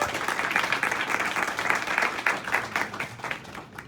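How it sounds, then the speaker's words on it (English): A small meeting crowd claps steadily for someone speaker, a dense, even patter of hands lasting a few seconds before tapering off. "Give a round of applause for this lady"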